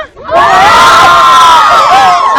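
A television studio audience bursts into loud shouting and cheering at a game show, a dense, close roar of many voices, including children's, sustained for about two seconds.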